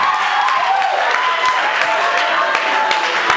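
Guests applauding the bride at a civil wedding ceremony: a dense, continuous wash of clapping from a room full of people, steady and fairly loud, with scattered voices underneath.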